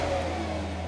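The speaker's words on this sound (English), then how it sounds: "You start up, has a great exhaust." A 2019 Hyundai Veloster N engine revs briefly through its exhaust, a loud, close, steady throaty drone with no talking.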